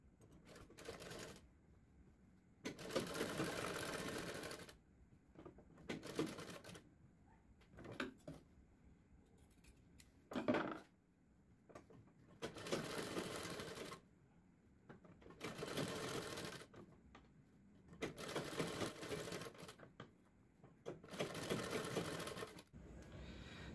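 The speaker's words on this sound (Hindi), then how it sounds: "यहाँ पर इसमें सिलाई लगानी है ताकि जम जाए" A sewing machine stitches a strip onto a blouse back neck in repeated bursts of fast, whirring chatter, separated by quiet pauses and occasional handling clicks, fairly faint.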